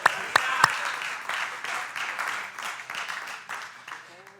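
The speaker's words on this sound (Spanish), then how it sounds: "Dele palmas al Señor, a su nombre." A church congregation claps during a Spanish-language devotional service, a few sharp claps first, then a rhythmic wash of clapping mixed with voices and shouts that slowly fades.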